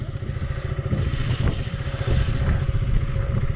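A Hero Splendor Plus motorcycle idling along in first gear on a cold mountain road in the Spiti Valley, producing a steady, loud low engine thrum with light rattling close by and no talking.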